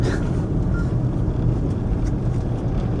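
Stop-and-go car traffic in a jam in Mandaue City, Cebu, heard as a steady low engine rumble and road noise from close by, with no clear individual events.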